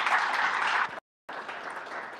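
A round of applause from a conference audience for a group of speakers, dense clapping that breaks off into a short silence and then resumes just as strongly.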